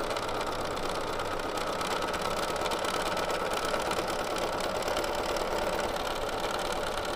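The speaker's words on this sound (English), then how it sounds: "How fast I'm sewing depends on how fast or slow I can move the quilt." A sewing machine running at a steady mid speed during free motion quilting, giving a continuous close whirring hum with fine mechanical chatter and no pauses or voices.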